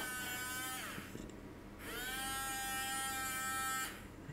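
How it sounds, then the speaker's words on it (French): A small DC motor driven by an Arduino through an L293D whirs with a high, steady buzzing whine, stopping briefly near the middle and spinning back up before cutting off again. "Là, le moteur, il tourne comme ça"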